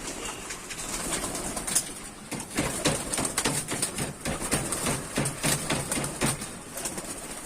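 Pigeons in a loft coo in soft repeated murmurs while bursts of wing flapping come and go, close and fairly busy, with no talking over them.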